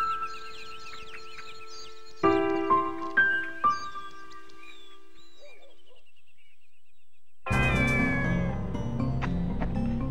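A kitten meows in a cutscene from the video game Shenmue, several short high cries in a row over a steady tone, followed by a pause and then a loud burst of dense music and ambience.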